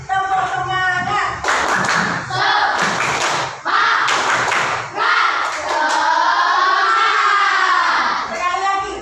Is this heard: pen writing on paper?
no